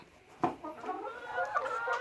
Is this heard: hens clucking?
yes